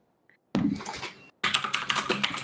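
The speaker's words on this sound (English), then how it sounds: "Is the keyboard audible again?" Computer keyboard typing during an ARMA 3 gaming session: rapid clusters of close, crisp key clicks in two bursts separated by a brief pause, alone without talk.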